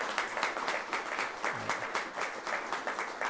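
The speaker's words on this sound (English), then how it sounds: "Yes, applause would be good, Don." Audience applause at a university press conference announcing full NCAA Division II membership, a steady patter of many hands clapping with rhythmic swells, close and fairly loud, with no talking.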